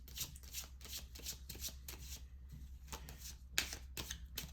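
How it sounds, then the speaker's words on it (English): Tarot-style cards shuffled and drawn during a reading, a steady run of soft riffling and slapping bursts with a low hum underneath and no talking. "Let me pull this last card."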